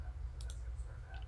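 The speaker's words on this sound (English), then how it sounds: "Clicking." A few quick clicks from a computer mouse or keyboard during a CSS coding session, faint and close against a low background hum.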